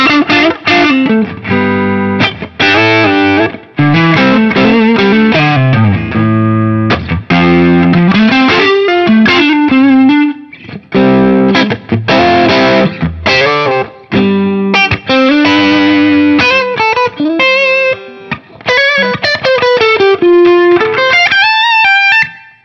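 A distorted electric guitar fitted with Area 61 pickups plays loud, sustained chords and riffing lines with bends, thick overdriven tone and a short melodic run at the end.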